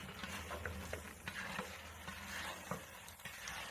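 Home-grown garden onions being stirred into venison chili in a pot, a soft scraping stir over a low, steady sizzle, quiet and close with no talking.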